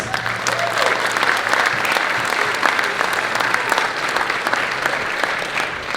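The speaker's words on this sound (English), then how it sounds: "let's give her a round of applause" An audience at a spring school concert applauds a raffle winner who takes home $60, a steady dense wash of clapping that holds loud and even throughout, with faint voices mixed in.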